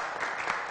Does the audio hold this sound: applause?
yes